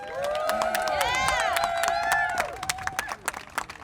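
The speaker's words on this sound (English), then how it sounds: "Another round of applause, please." Outdoor crowd at an Earth Action Rally in Salt Lake City, 2025, giving a round of applause: whoops and cheers ring over steady clapping at first, then thinning into scattered claps that fade out.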